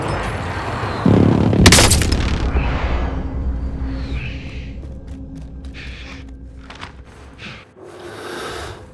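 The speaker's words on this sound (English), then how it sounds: "Enemy precision airstrike. Take cover." A precision airstrike in Call of Duty Warzone: a sharp blast followed by rolling booms and debris, loud and sustained, with further distant thuds trailing off.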